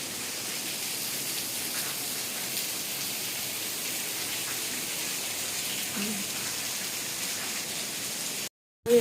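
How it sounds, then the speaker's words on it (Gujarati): Heavy rain pours down in a steady, even hiss that holds throughout, broken only by a brief moment of silence near the end. "અત્યારે તો વરસાદ વધારે જ પ્રમાણમાં છે"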